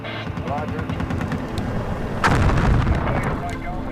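A Bradley fighting vehicle's gun fires in rapid, heavy bursts in desert combat during the 1991 Gulf War, loud and close, with a sharper blast midway and shouting voices over the din.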